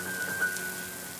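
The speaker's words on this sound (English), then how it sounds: "On the way to the park, it started to rain." Steady rain falls in a children's TV show, a soft even hiss with a faint tonal hum beneath, short and continuous with no voices.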